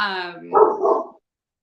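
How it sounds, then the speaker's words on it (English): A dog barks twice in a short, close burst right after a person's voice, the barks loud and rough. "Your dog made my dog bark"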